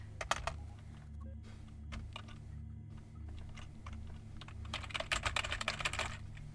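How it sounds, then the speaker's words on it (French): Rapid keystrokes on a computer keyboard, steady clattering that quickens into a denser burst near the end, close and alone over a low hum. "faut que je tape au pif sur le clavier"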